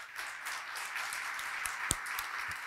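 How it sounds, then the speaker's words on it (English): Audience applause at a Liferay community conference, a soft, steady patter of clapping from a seated crowd with a few sharper individual claps standing out, fairly distant and without talk. "if we could give SMC a round of applause as well"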